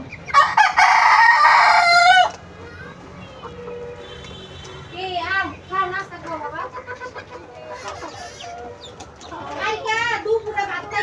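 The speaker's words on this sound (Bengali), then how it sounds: "দেখেন কিভাবে মুরগিগুলো খাচ্ছে।" Chickens being hand-fed, with a loud burst of crowing and clucking from the flock at the start, followed by scattered nearby clucks and calls under background chatter.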